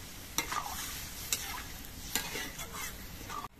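Hot water is poured into a pan of frying chana dal and pumpkin, producing a steady close sizzle broken by three or four sharp scraping clinks from stirring.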